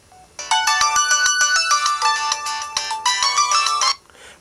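A musical factory-preset phone ringtone plays a bright, bell-like melody of quick repeating tones, loud and clear on its own, lasting about three and a half seconds before cutting off.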